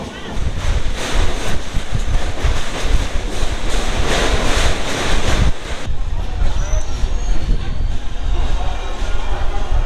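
The Kandari Express on the Howrah to Digha route rolls into platform five at Mecheda station with loud, continuous rumble and rushing noise that eases slightly partway through.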